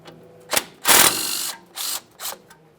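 A ratchet wrench loosens the 10mm bolt holding the brake flex hose on a 2015-2020 Ford F-150 front suspension, several quick clicking bursts close up with short pauses between.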